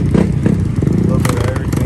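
Several motorcycles idle and rumble together at an Aurora bike ride gathering outside near a taco stand, a steady loud engine drone with brief revs, mixed with crowd chatter.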